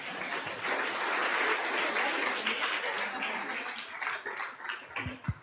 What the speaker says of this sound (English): Yes, a round of applause again.